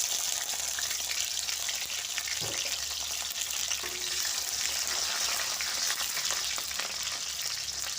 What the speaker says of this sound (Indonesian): ini minyaknya udah panas, langsung aja kita masukkan dulu bawang merah dan bawang putihnya ya